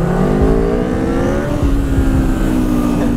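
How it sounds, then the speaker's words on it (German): Superbike engine revving hard on a city street, loud and close, with rising and falling harmonic whine as the throttle is worked, accompanied by surrounding traffic rumble. "hier in der Stadt so aufzugasen"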